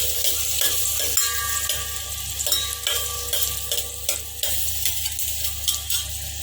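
Chopped garlic fries in a pan with a steady sizzle close by, broken by regular scraping and tapping as it is stirred. No voices.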